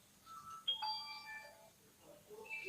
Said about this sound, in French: mon téléphone a sonné, mon téléphone fixe